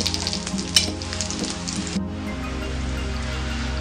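Hot tempering of shallots, garlic and ginger is poured into a cucumber buttermilk curry (pulissery), giving a loud hiss and crackle that quickly settles into a steady, softer sizzle.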